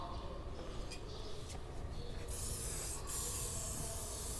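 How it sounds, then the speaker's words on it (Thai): Cleaner hisses from a spray-head bottle in a steady, airy burst that begins about halfway through and continues to the end. Before the spray, a few faint short puffs sound over a quiet background. "นี่หัวก็จะเป็นหัวสเปรย์แบบนี้เลย"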